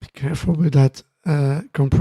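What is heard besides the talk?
No everyday noises stand out.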